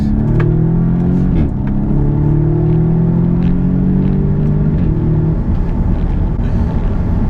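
A car driven hard on a track, its engine revving loud and close with rising pitch sweeps, a brief gear change, then the drone settling into a rougher, steady roar.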